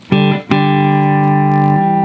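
Electric guitar played loud through a Fender Princeton Reverb amp, two quick picked attacks followed by a sustained, strongly harmonic chord ringing out steadily to the end with no talk.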